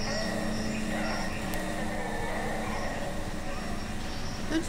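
A train car rumbles with a steady, low mechanical hum and faint metallic tones, heard as ambience inside a tram area in the sci-fi horror video game Dead Space 2, with no speech.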